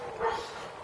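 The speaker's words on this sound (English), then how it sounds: "Again, that bloody dog." A dog barks once, somewhat distant, over steady outdoor background noise during portable antenna testing.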